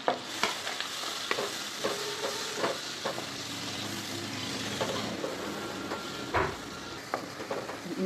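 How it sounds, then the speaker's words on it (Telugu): Onions and spring onions fry in melted butter with a moderate crackling sizzle, punctuated by repeated clacks and scrapes of a spoon stirring the pan, and no talk. "ఆనియన్, కొంచెం స్ప్రింగ్ ఆనియన్స్ వేసి బాగా ఫ్రై చేద్దాం."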